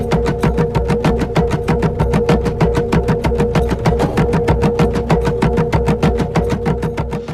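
Recorded drum rhythm associated with Stonehenge played back: fast, steady, evenly spaced beats repeating throughout over a low humming drone, no voices.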